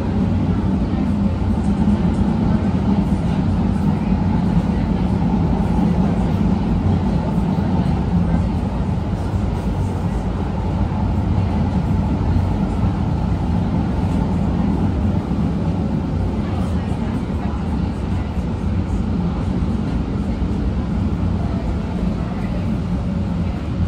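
An MBTA Green Line train heading to Cleveland Circle rolls between Boylston and Arlington stations, a steady loud rumble and rattle of wheels and motors filling the car without pause throughout.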